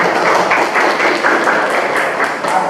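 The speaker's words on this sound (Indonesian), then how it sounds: "Tepuk tangan dulu untuk Komarudin." Students in a classroom give a classmate a round of applause, a steady, fairly loud patter of many hands clapping together close by, with no talking over it.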